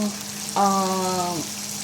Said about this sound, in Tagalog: So, hayaan lang natin ito guys na pritong-prito.